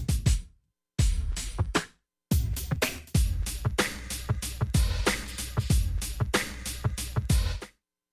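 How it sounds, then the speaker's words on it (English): A rack-mounted synth played from an Ensoniq SQ80 keyboard sounds a series of plucky, percussive notes in a steady rhythm, with short pauses between early phrases, clean and close with no talking. "so this is a rack mounted synth"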